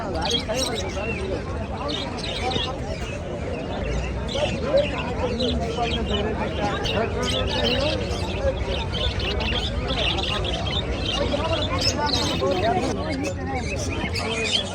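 Busy bird market crowd with overlapping voices and chatter at a cattle market in Madhabdi, Bangladesh, while racing and king pigeons coo and birds chirp and flutter throughout.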